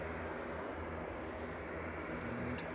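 A Ryanair airliner passing overhead near Manchester Airport gives a steady, faint, distant broadband rumble that holds without change throughout.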